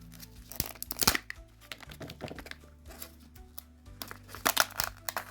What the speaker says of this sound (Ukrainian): Шурхіт чуємо.